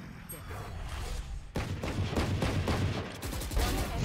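Rapid gunfire from the video game Valorant crackles in a steady run of repeated shots after a sudden onset, loud and close, with players talking over it.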